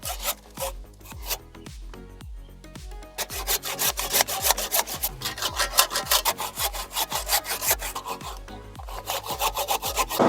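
A hand saw cuts through a standing tree, with steady rhythmic strokes rasping back and forth, loud and close, sustained throughout with no talking.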